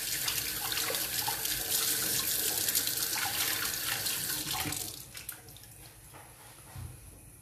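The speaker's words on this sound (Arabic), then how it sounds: "جس نغسل يديا" Hands are washed under a running tap, a steady rushing stream of water that continues loudly for about five seconds before cutting off, leaving a quieter room with a few faint knocks.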